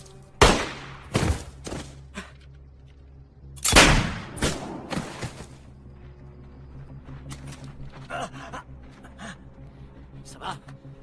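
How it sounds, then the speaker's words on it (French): Several loud, sharp gunshots ring out close by, spaced irregularly, followed by quieter thuds and scattered sounds. "J'ai entendu les coups de feu."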